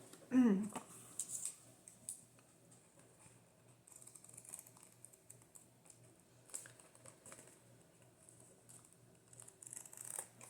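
Scissors cut through a Rook game card box for a junk journal, making quiet close snips and papery crinkles scattered across the clip, with faint handling noise in between.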